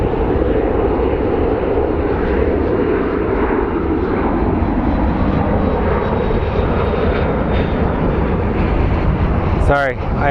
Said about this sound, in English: I heard a small plane, so I had to look up